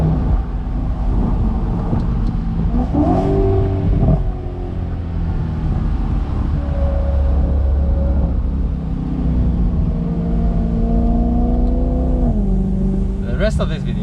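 A BMW E93 M3 convertible with a 4.0-litre V8 drones and rumbles steadily while driving, the exhaust note rising and falling through gear changes, loud and close throughout.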